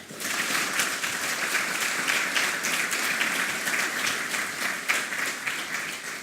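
An audience at the National Bravery Awards 2016 ceremony applauds the guests with a sustained, even round of clapping. It is loud and close, with no voices over it.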